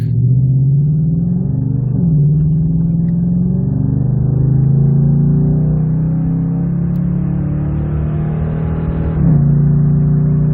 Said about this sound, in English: just do a little pull uphill, give you guys an idea of the resonance inside the truck.